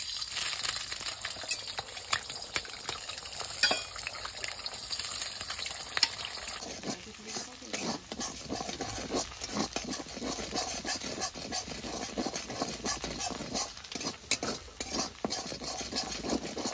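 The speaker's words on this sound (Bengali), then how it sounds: "এবার ডিমটা আমি ভেজে নিব" Egg frying in white oil in a wok, a continuous crackling sizzle with scattered clinks and scrapes of a utensil, fairly close and steady throughout with no talk.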